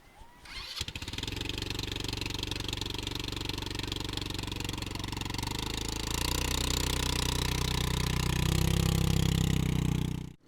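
A rented two-wheeler starts up and pulls away, its engine clattering steadily close by, then rising in pitch and loudness as it gets under way for about ten seconds.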